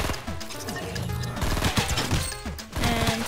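Rapid gunfire in a video game shooting range challenge, dense bursts of shots crackling over game music and effects, loud and continuous without talk.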